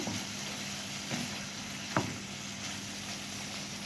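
Liver frying in a pan is stirred, giving a steady, moderately quiet sizzle with a few soft scraping strokes and one brief sharp clink, with no talk.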